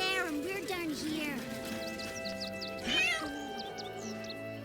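Cat meowing in Baldur's Gate 3, several clear, drawn-out meows rising and falling over a background of music, with some chirping sounds near the end.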